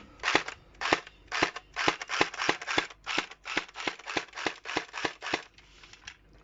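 An airsoft Thompson M1A1 running on a Titan 7.4 battery fires a string of about sixteen sharp, snappy single shots at a slightly uneven pace, fairly quiet and close, with no talking.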